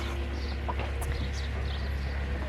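Chickens cluck and murmur inside a backyard coop, with a steady low hum running underneath the soft, scattered calls.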